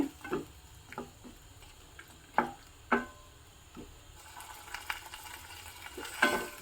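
Fenugreek leaves with tomato paste are stir-fried in a pan for a Malenadu-style dish. A spatula clicks and scrapes at an irregular pace over a faint, soft sizzle, heard up close.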